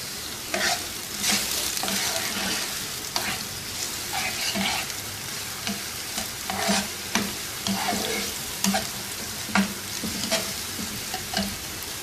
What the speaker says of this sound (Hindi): बिल्कुल हल्का सा सौते करेंगे, वेजिटेबल्स का क्रंच ख़त्म नहीं होना चाहिए।